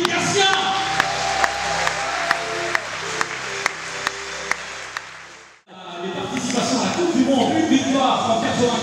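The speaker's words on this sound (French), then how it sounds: "Applaudissez Jean-Philippe Garcia." Applause for a retired table tennis champion at a legends tour event, sustained clapping with a steady pulse of sharp accents for several seconds, a sudden dip, then a fuller burst of crowd clapping and cheering.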